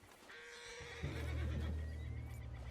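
A horse in Red Dead Redemption 2 neighs loudly in one drawn-out whinny, with a low rumble beneath, close and alone.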